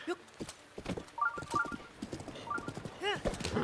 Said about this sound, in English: Maybe I should have named the horse Baby